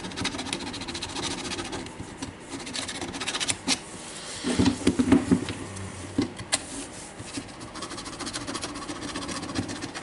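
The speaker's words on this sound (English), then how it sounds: "normally I'm using the simple file and just cleaning the dirt from the brush holder." Hand file scraping dirt from the brush holder of a Makita 9558HN small angle grinder, an uneven rasping and rubbing with a short burst of quicker scrapes midway, close and fairly quiet, no talk.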